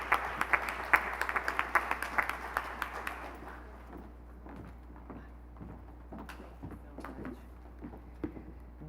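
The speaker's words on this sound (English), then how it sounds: "So let's give her a round of applause." An audience at a School of Business hooding and recognition ceremony claps for a few seconds, the applause fading into scattered claps and light room noise.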